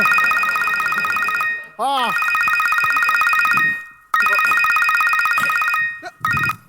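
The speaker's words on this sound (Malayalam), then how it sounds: "ഏടാ എന്നെ ഫോൺ വരുന്നല്ലോ." A phone rings in a vintage comedy stage skit with a loud, sustained tonal ringtone that cuts out briefly and resumes. A springy boing-like effect and a short vocal exclamation come in between.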